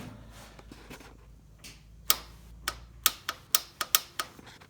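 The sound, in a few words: clicking fuel solenoid of a lawn mower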